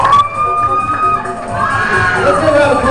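A crowd cheers and whoops for the two finalists of a speed eating contest, a dense, steady roar of voices with shouts rising over it throughout.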